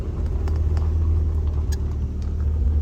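A Mazda Miata driving on a steep mountain road, its engine a steady low rumble with road noise filling the cabin, holding a constant drone throughout.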